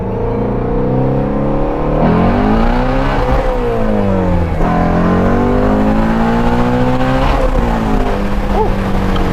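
A Shelby Ford GT350 with worn tires and a Steeda IRS subframe brace accelerates hard at wide open throttle, its engine note rising steadily through the gears with brief dips at shifts, loud and close from inside the cabin.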